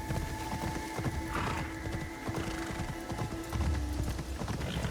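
A horse in Assassin's Creed Shadows gallops in steady rhythmic hoofbeats, with a short whinny partway through, loud and close over a continuous game soundscape.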